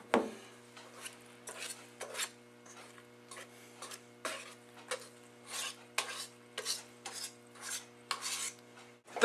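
Flour being spread across a dried work surface for making breadsticks: a steady series of soft rasping scrapes and rubs in a regular rhythm, close and fairly quiet, with a faint hum underneath.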